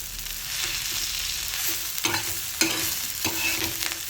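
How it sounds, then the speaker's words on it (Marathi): Kaju chicken masala sizzles in a hot pan as a spatula stirs and scrapes it, a steady frying hiss broken by a few louder rhythmic scrapes, with no voices. "पाच मिनिटं छान परतून घ्यायचं आहे"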